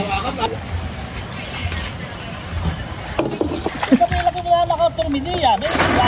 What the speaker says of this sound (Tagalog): At nilalagyan po ni Bossing ng tubig.